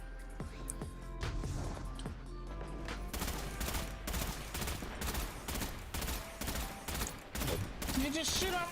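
Sustained gunfire in Destiny 2: Beyond Light, a steady rhythmic stream of loud shots pounding for several seconds over continuous game music and effects, with a voice talking beneath.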